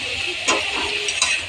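Eggplant pieces frying in a pan with salt, sugar, turmeric, tomato and green chillies, giving a continuous close hiss of oil with a couple of soft stirring scrapes.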